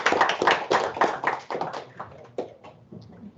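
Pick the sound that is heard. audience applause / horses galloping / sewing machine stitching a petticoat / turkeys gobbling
audience applause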